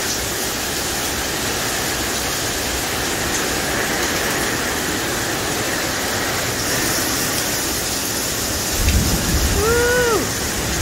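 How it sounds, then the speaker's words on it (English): Heavy rain pours steadily in a broad hiss on a road trip across the USA, loud and continuous throughout, with a faint low rumble and a brief clatter near the end. "raining cats and dogs."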